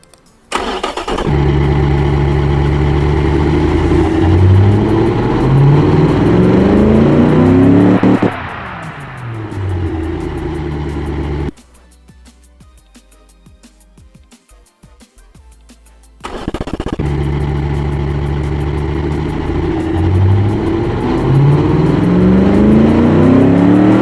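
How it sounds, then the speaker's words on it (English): The engine of the 1956 Silverton concept car cranks and fires, then idles and revs up repeatedly, cuts off for a few seconds of quiet, and starts again with more revving, loud and close. "let's hear what the engine sounds like."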